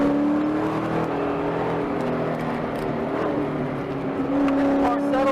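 A race car drives a long track course, its engine droning steadily up close with shifting pitch as it accelerates out of a corner.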